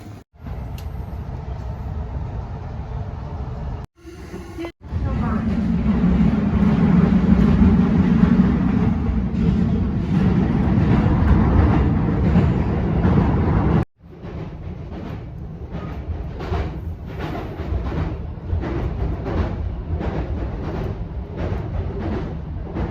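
A train in Japan near Tachikawa gives a loud, steady low rumble with faint rattling, broken by a couple of brief drops in level.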